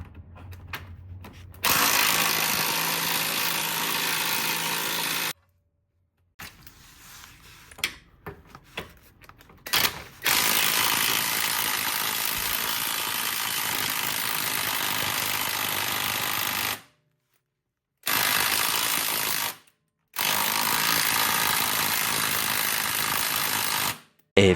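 An impact wrench hammers in long loud bursts at rusted subframe bolts on a 2002-06 Honda CR-V, stopping and restarting several times with brief ratcheting in between.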